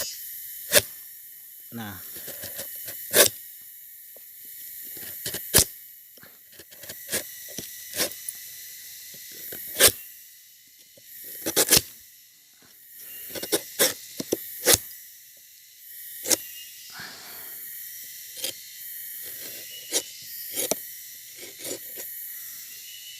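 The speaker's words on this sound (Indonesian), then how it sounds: "Jadi kita iris setipis ini dulu, kita iris." A knife makes thin slices across a sugar palm (aren) flower stalk during palm sap tapping, producing sharp, crisp clicks and scrapes at irregular intervals, with someone talking quietly between the cuts.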